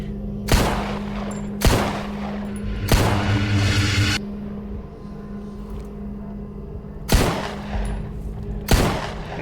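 Gunfire in the survival shooter Stalker Gamma, five loud, sharp shots spaced about a second apart, a lull, then two more, with some rumbling between bursts.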